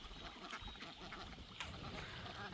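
A small flock of farm ducks, among them one called Dabbles, quacking faintly at a distance as they bathe in a pond, with a soft outdoor wash of background sound.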